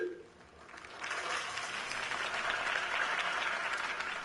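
A crowd breaks into applause after a brief spoken moment, the clapping swelling and holding steady, moderately loud.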